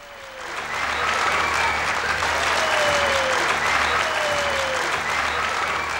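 A crowd at a 1994 playback show with a circus theme bursts into loud, sustained applause that swells quickly and holds steady, with a few whoops and whistles riding over the clapping.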